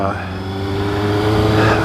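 A motorcycle engine runs steadily and close by, its tone rising slightly toward the end as if revving, with no speech over it.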